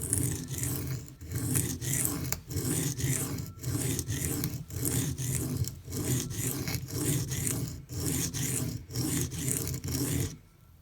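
A Microtech UTX-70 knife blade rasps across a Venev diamond pocket stone in steady back-and-forth strokes, a rhythmic gritty scraping heard close with brief pauses between passes and no talking.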